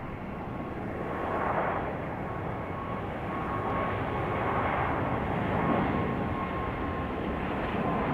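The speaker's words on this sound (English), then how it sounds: "JetBlue A220 getting a move on." A JetBlue Airbus A220 jet rolls past at Raleigh-Durham International Airport, its engines giving a steady, broad roar that swells gently and holds throughout at moderate distance, with no voices.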